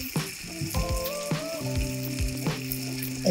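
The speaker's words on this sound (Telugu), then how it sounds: "వేసుకొని దాన్ని కూడా బాగా ఫ్రై చేసుకోండి." Curry ingredients for a spicy phool makhani masala sizzle in a pan, a steady close frying hiss with a few clinks and knocks, set against a background of sustained musical tones.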